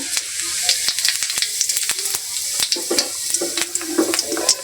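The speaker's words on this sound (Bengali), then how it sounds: "এখানে একটু অল্প একটু করে আমি জিরা দিয়ে নিচ্ছি।" Cumin seeds sizzle in hot oil in a heated wok, a close, steady crackling hiss scattered with sharp pops and spits, with light scraping of a spoon and no voices.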